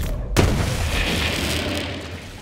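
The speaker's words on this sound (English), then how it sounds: "Stray grenades." Grenade blast in the video game Borderlands 3: one loud, close boom opens the clip, followed by a sustained rumbling, crackling wash of combat noise.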